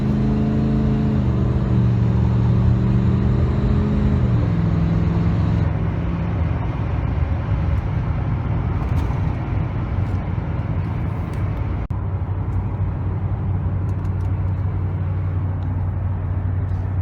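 A truck drives along a road with a steady engine drone and tire rumble. A gear change comes early, then the truck cruises at an even, loud, close level with no voices.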